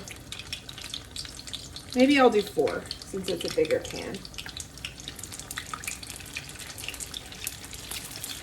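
Egg rolls fry in hot oil that sizzles and crackles steadily with a constant bubbling hiss, while someone speaks briefly over it near the start.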